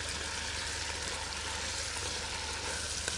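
Garlic and parsley hitting a pan of frying lamb for a Pedraza-style lamb dish, giving a steady, close, loud sizzle that holds evenly throughout with no talk over it.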